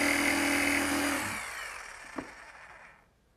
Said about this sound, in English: And now I'll just finish those cuts with my jigsaw.